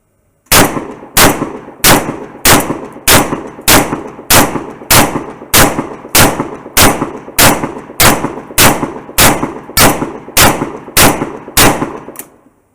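Blank cartridges fired outdoors from a drum-magazine shotgun, about sixteen loud sharp reports in an even rhythm roughly three-quarters of a second apart, each followed by a short ringing decay.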